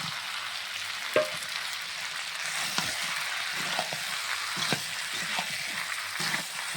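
Potatoes and pointed gourd frying in a meat curry with onion, garlic, ginger and spices, a steady close sizzle broken by scraping stirs and clinks of a spoon against the pan.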